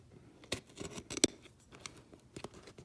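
Scissors snipping through the covering of a Honda Pilot armrest during repair, a few sharp close cuts with rustling material between them, no talking.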